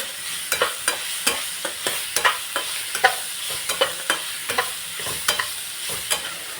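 Vegetables with Maggi masala fried for veg pulao are stirred in a pan, a spoon scraping in regular sharp strokes about twice a second over a soft continuous sizzle, close and alone.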